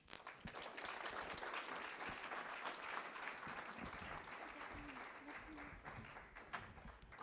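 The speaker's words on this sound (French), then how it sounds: "On peut l'applaudir." An audience applauds a newly welcomed honorary president, steady moderate clapping holding for the whole stretch with a few murmuring voices underneath.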